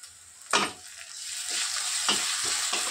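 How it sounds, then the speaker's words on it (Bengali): Chopped onion fries in a pan while ginger-garlic paste is added and stirred, a steady bright sizzle broken by several scraping stirs of the spoon, close and fairly loud. "পেঁয়াজটা একটু ভেজে নিই। এবারে দিয়ে দিচ্ছি একটু আদা রসুন বাটা।"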